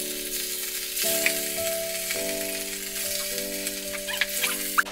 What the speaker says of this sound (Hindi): और अब इसमें डालेंगे फ़िश के पीसेस।